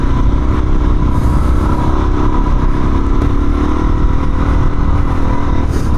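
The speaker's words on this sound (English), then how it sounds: "the DRZ is powered by a 400cc single-cylinder engine" A 2019 Suzuki DRZ 400 with a carbureted 400cc single-cylinder engine runs loud and close, a constant throbbing drone that holds steady and never drops away.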